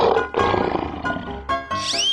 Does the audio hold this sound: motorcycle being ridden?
no